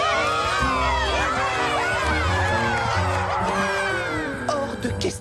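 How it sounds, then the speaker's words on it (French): Cartoon audience in Strawberry Shortcake cheering and shouting as a crowd, loud and continuous with excited high voices and scattered screams, fading slightly near the end. "Je vous demande d'applaudir bien fort Petit Beignet."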